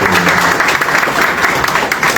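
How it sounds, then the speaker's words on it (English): An audience at a World Bank panel session applauds the panelists, a loud, sustained, dense wash of clapping from a large crowd filling the whole stretch. "May we give our panelists a round of applause."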